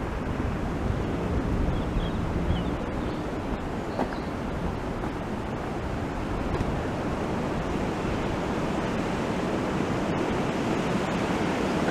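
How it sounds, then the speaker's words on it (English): Wind blows through the trees of a park as dusk falls, a steady, broad rushing roar that fills the whole stretch without letting up, with no voices over it. "the wind's getting noisy in the trees"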